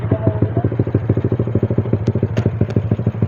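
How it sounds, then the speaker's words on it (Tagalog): A Sniper150 motorcycle fitted with an MVR1 ECU idles loud and close, its exhaust throbbing in a fast, steady rhythm with a few sharp metallic ticks over the top. "Ang lakas-lakas ng tambutso mo."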